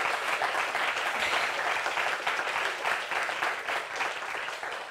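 Audience applause at a student and emerging conservator conference, a steady wash of many hands clapping in a hall, continuous and moderately loud with no talk over it.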